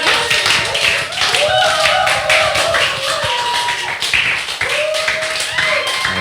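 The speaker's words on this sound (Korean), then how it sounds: "큰 환호와 함성으로 맞이하겠습니다." A church worship congregation claps and cheers loudly, with a dense, continuous patter of hands mixed with raised, whooping voices for the full six seconds.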